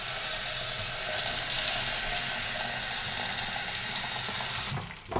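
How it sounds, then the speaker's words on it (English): Sprouting beans rinsed under a running kitchen tap, a steady hissing splash of water that holds at an even level before cutting off abruptly near the end, with no voices. "I rinse through them to wash off any dust"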